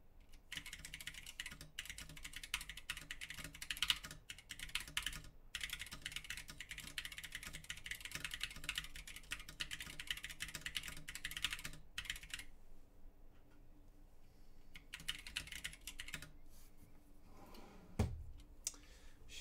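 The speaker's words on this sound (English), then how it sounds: "Typing test." Brisk typing on a carbon fiber mechanical keyboard, a steady run of close, crisp key clicks with a few short pauses and a dull knock near the end.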